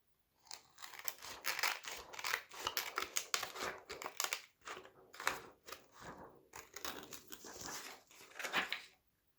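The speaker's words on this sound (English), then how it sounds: "Let's cut this one." Scissors snipping through paper and card scraps while making handmade journal cards with pockets, a close, steady run of crisp cuts and crinkles with short pauses, no talking.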